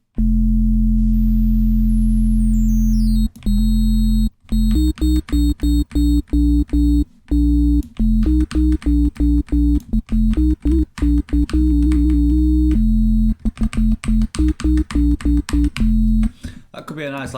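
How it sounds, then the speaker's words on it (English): A heavy, distorted synth bass holds long sustained notes, cutting in and out in choppy stops and restarts, loud and up front. "That could be a nice like sustained bass actually."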